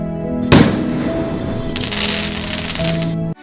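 Animated Diwali firecrackers go off in a short sharp crack followed by a crackling burst, then a second fizzing spray of bangs, loud and close with no voices.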